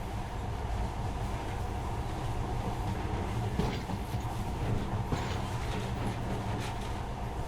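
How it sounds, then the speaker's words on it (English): A monorail train in the game Metro Last Light Redux runs steadily, a continuous rolling rumble with rhythmic clacking and occasional faint squeals, moderately quiet and without speech. "this monorail seems magic, doesn't it?"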